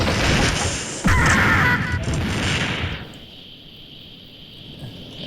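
A bomb blast in the mobile shooter Mini Militia during a capture-the-flag match: a sharp crash near the one-second mark over loud, dense gameplay noise that cuts away to quiet after about three seconds.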